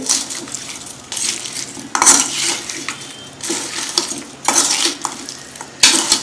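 Fish pickle of korameenu fish with lemon juice is stirred in a pan, a spoon scraping and clattering against metal in repeated strokes over a soft oily sizzle, close and fairly loud.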